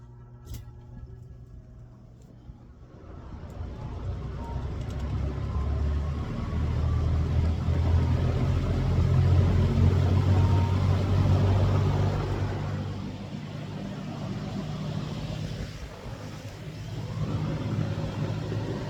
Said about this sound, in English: I'll hush for the spin up motor starting up sound.